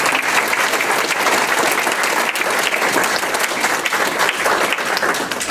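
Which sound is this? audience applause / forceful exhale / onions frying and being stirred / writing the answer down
audience applause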